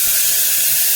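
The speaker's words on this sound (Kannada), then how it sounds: "ಈಗ ಒಗ್ಗರಣೆ ಹಾಕೋಣ" Tempering being added to hot oil for a Kannada-style greens saaru: a bright, continuous hissing sizzle, close and steady through the short moment, with no talking.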